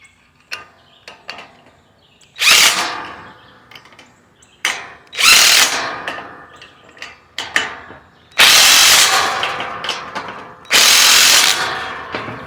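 A power drill tightens a screw on a pig pen in loud, close bursts of whirring and ratcheting, with four strong runs and several shorter clicks and taps between them.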